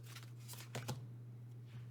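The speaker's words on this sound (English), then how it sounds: "we're going to use a goddess deck just to choose one goddess, just shuffle and choose one" A goddess oracle card deck being shuffled, a few quick soft riffling flutters close by against a steady low electrical hum, faint and without talk.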